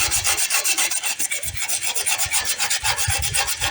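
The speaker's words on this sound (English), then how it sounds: "And yes, I am sanding the solar plastic glass also." Rapid back-and-forth rasping as the plastic glass cover of a solar garden light is sanded, close and loud with a steady scrubbing rhythm throughout.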